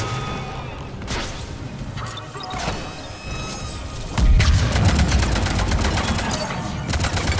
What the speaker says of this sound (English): Oh, he just shot at me again.